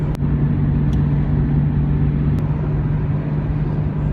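Steady engine and road noise from inside a Nissan Skyline GT-R R32 with a 5-speed manual, cruising at a constant pace with a low droning hum and no talk.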